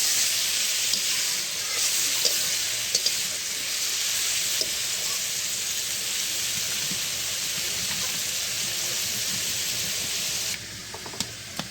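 Ridge gourd with six green chillies frying in a pan while being stirred: a steady, close sizzle and hiss of moist vegetables cooking, with light scraping of the stirring.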